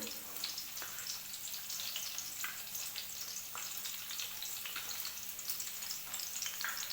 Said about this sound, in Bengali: তেলটা গরম হয়ে গেছে, এবার আমি পেঁয়াজ কুচিগুলো দিয়ে দেবো।